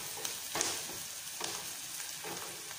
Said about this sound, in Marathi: कांदा बघा आपला गोल्डन कलर चांगला भाजलेला आहे